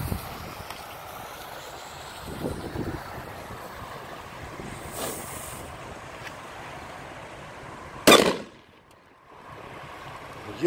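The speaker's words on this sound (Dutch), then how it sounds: "Nou, dat is een behoorlijke knal." Wind and outdoor rumble, then one sharp, loud Zena Nitrate firecracker bang followed by a brief quiet before the wind returns.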